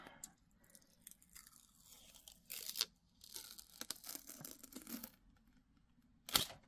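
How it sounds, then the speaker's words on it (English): Plastic protective wrapper peeled off a Maniology nail stamping plate, heard as several close crinkling, tearing bursts with brief pauses between them. "We're going to peel off the wrapper so that we can actually get to the designs."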